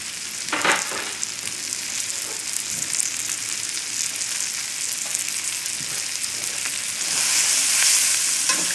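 Zucchini fries in a pan over high heat with a loud, continuous sizzle and crackle close by, a few stirring knocks early on, and the sizzle swells near the end.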